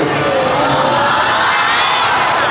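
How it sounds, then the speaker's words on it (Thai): An audience at a love-song concert cheers and claps for singing contestants, a loud, sustained wash of whoops and crowd noise that holds steady from start to finish. "ขอเสียงปรบมือให้กับผู้ประกวดทุกคนด้วยนะวันนี้"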